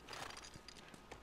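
Horse hooves in The Last of Us video game, a short run of clip-clop steps at close range with no talk.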